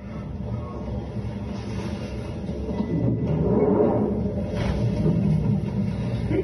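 A commuter train rumbling along the tracks, a steady low roar that swells slightly, heard from inside or nearby with no voices.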